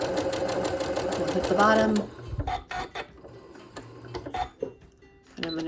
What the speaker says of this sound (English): I'm going to give it a back stitch here.